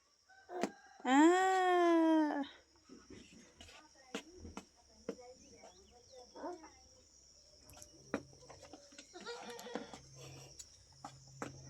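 A goat gives one loud, wavering bleat close by. Scattered knocks and rustles follow, along with soft farmyard sounds and crickets, while people talk now and then.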